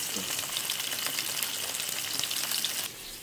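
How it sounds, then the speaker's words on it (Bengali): Fish fries in a pan of hot oil, giving a continuous, close crackling sizzle with busy spattering throughout. The sizzle drops off a little near the end. "এখন আছি আমরা মাছ ভাজ"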